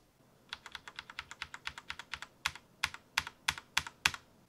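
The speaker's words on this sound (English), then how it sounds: "Here's an example of a regular linear keyboard with a clack." Linear mechanical keyboard keys clack in a steady typing rhythm, each keystroke a crisp, sharp click, growing louder and more spaced toward the end.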